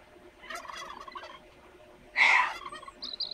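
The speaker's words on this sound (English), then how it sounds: "Look at the spread on that gobbler." A wild turkey gobbler lets out a loud, rattling gobble close by, following softer bird calls, with a brief higher chirp at the end.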